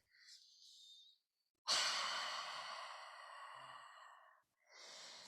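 Deep, audible breaths pushed out through the mouth during a guided breathing session: a soft breath, then one long, loud sighing exhale, followed by another quieter breath, close and intimate with no talking.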